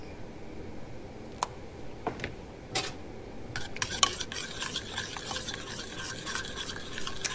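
Old Bay seasoning and parsley flakes stirred into shrimp boil liquid in a pot, quiet swirling liquid with a spoon clinking and scraping the pot sides, a burst of faster scraping midway; no talk.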